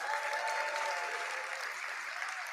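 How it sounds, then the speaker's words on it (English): Continuous audience applause fills a live business event hall during a CEO competition, a steady, moderately distant wash of clapping lasting a few seconds. "Once again, big round of applause, Joanne Pong."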